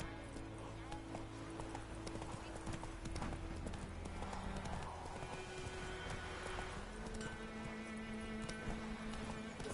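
Galloping hooves of the horse Roach in The Witcher game, a steady rapid clip-clop rhythm under game ambience, with a voice speaking over it.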